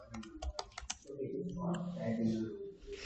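Someone types a search on a computer keyboard: a quick run of sharp, close key taps, then a voice talks over softer background sound.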